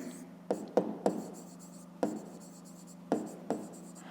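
A pen writes by hand on paper, giving scattered short scratchy strokes and taps in uneven bursts, close and fairly quiet.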